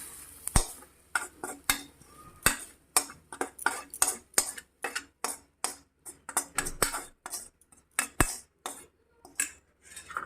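A spoon mixes tempering masala into semolina appe batter in a bowl, producing a rapid series of close, sharp clinks and scrapes in an irregular stirring rhythm.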